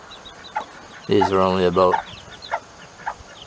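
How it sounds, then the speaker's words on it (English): A late-season Bantam hen clucks beside her seven three-day-old chicks, her call swelling into one strong harmonic squawk near the middle, with a few scattered short peeps and clucks before and after and a brief voice at the start. "That's one of my real late season hatched Bantam hens."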